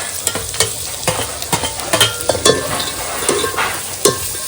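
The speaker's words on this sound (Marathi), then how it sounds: "चांगली मसाल्यात परतून घ्यायची." Country chicken pieces on the bone being stir-fried in thick Malvani masala, with repeated scraping spoon strokes and a steady sizzle, close and fairly loud, no talking.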